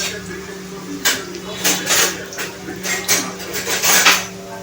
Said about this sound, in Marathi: कांदा टाकलेला आहे आपण छानपैकी, आणि तो आपल्याला थोडासा फ्राय करून घ्यायचा आहे लालसर